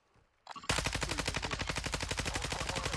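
Sustained automatic gunfire in the video game DMZ, loud and close, breaking into a rapid unbroken burst after a brief quiet start and running to the end with no talk.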